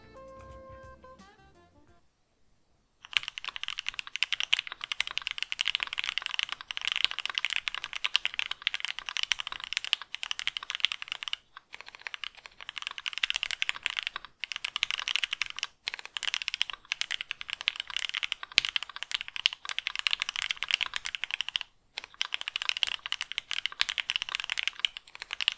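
Rapid close typing on a keyboard fitted with lubed H1 linear switches, giving a continuous stream of muted, even keystrokes with a few brief pauses, after a short quiet lead-in.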